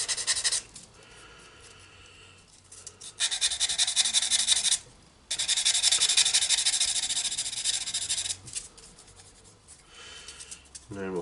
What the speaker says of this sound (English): These sanding sponges are good as well.